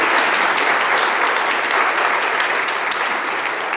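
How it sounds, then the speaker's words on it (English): A conference audience applauds in steady, dense clapping that fills the whole stretch, loud and close, with no talk over it. "give a round of applause to all those great speakers yesterday and to Xlear for bringing us"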